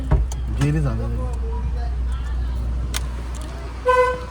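A car rumbles past with people chatting nearby, then a short, loud horn honk sounds near the end.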